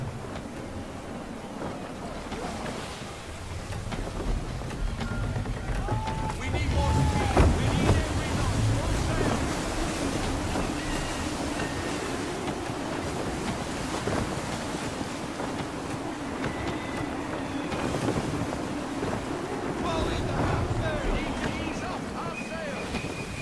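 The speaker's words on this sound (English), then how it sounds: "Gusty winds can be difficult to manage." In the Assassin's Creed III video game, a gusty wind roars steadily while a sailing ship moves through water. Waves and creaking from the ship sit under the rush of the wind, and a voice speaks over it.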